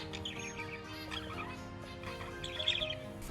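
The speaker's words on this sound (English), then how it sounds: "Now a black-faced finch with a stubby bill." A black-faced finch with a stubby bill gives soft, high chirping calls in short bursts, faint and fairly close against a quiet background hum.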